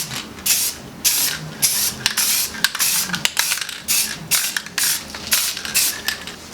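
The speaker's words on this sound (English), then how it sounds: "I still have some high heat clear left over from the engine bay, and that's what I'm going to spray this up with." A spray can puts high heat clear coat on a part for an SR20 drift car, in repeated loud hissing bursts with short gaps between them, close up and steady.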